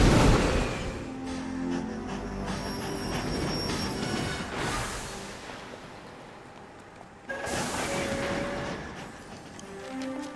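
A cartoon train rumbles along on the rails in My Little Pony, with wheels clattering and squealing for about ten seconds at steady loudness and a sudden burst partway through.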